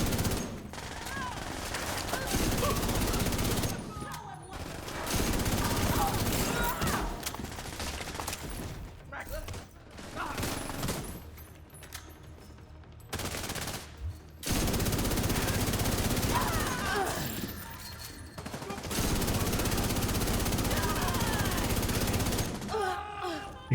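Sustained automatic gunfire in a video game comes in several long, loud bursts separated by short pauses, with a voice heard faintly between volleys.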